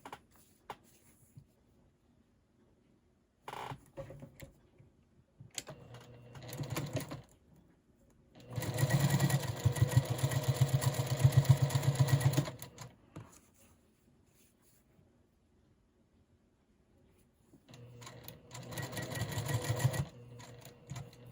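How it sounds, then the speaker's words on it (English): A sewing machine stitches quilt block pieces together in three separate bursts of rapid mechanical whirring, close and clear, with quiet pauses between runs. "And then we're going to sew them together."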